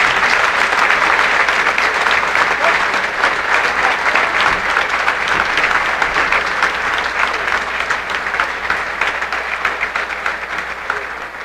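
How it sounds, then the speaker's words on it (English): A large crowd applauds loudly and steadily for over ten seconds, a dense wash of clapping that fades slightly at the end. "Let's give these 3 one more big round of applause."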